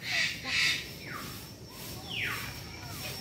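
A bird at Lembah Hijau wildlife park in Lampung gives a few faint chirps and short sweeping calls, somewhat distant, over a soft outdoor background hum.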